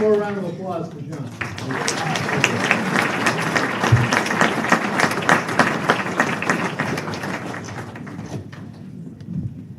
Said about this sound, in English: One more round of applause for John.